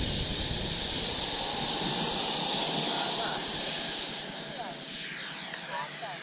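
An FMS 80mm electric ducted-fan L-39 jet model takes off, giving a steady high whine and rushing air that swells and then eases slightly, heard alone at moderate distance.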